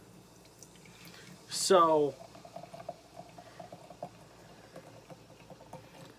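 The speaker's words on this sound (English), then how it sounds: "I'm going to pour this up because I don't trust myself." Watermelon Crush soda is poured into a glass in a quick, bubbly splash lasting about half a second, followed by soft fizzing and a few faint clinks, with a brief word spoken nearby.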